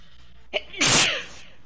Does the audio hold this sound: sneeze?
yes